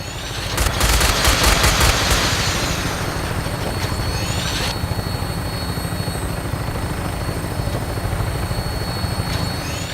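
Helicopter-mounted minigun in Fallout 4 firing a rapid, loud burst early on over the constant thrum of rotor blades, which keeps droning alone afterward.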